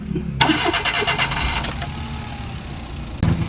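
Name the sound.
car engine starting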